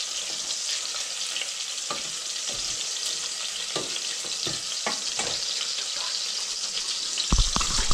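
Garlic fries in a pan for shrimp broth, giving a steady bright sizzle with scattered stirring clicks and scrapes and a louder clatter at the very end.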